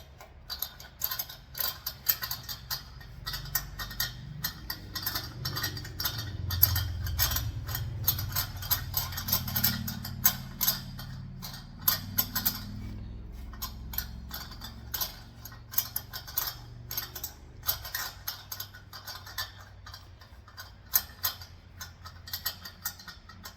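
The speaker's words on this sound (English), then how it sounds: "we'll run that tap through there again and try it out" Hand tap being turned to cut threads in a bolt hole during a 2006 Ford F-250 short box flatbed build, heard as faint irregular metallic ticks and ratcheting clicks over a low background hum, with no talking.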